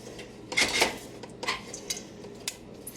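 Supper dishes clatter during washing at home after a lasagna meal, with a few close clinks and knocks of plates and cutlery against each other.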